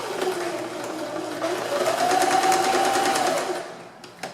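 A sewing machine stitches elastic onto a cap with a steady close mechanical whirr that rises slightly in pitch mid-run, then slows and stops with a faint click.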